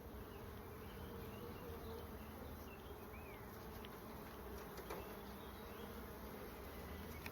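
Honeybees buzzing steadily around an open hive during a beekeeping inspection, a dense continuous drone close to the microphone with no talk.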